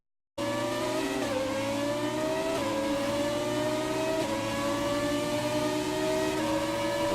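Simulated Formula 1 engines from the racing game F1 2017, with a McLaren Honda among them, hold a loud, steady high-pitched whine throughout, stepping up and dropping back with each gear change and without a pause.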